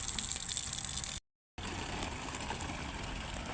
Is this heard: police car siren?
no